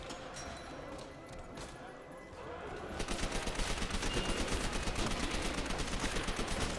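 MP40 submachine gun in Call of Duty: World at War Nazi Zombies, firing sustained rapid automatic bursts that start midway and keep going loud and close over a dense backdrop of game noise.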